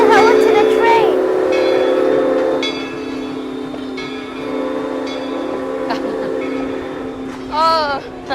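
An Essex steam train sounds its whistle or horn in a sustained harmonic blast as it passes, with rumbling noise underneath and a short rising whistle near the end.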